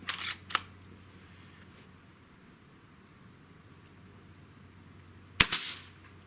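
JTS Brawn air gun firing at a target: two sharp cracks, one at the start and one near the end, separated by a long stretch of quiet background hiss.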